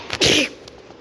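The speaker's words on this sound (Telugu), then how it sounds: "సారీ తుమ్మినందుకు" A single sharp human sneeze bursts out loud and close, lasting about a quarter second, with a faint breath before it and quiet afterward.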